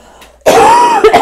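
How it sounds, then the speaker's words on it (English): A single loud, close throat-clearing cough, rasping briefly and then breaking into a couple of short hacks. "Sorry, I have to cough."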